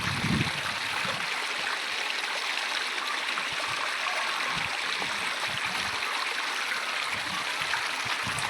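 A river rushes over rocks beside a Shiva temple, giving a steady, dense broadband roar of flowing water with faint low thumps and no talking.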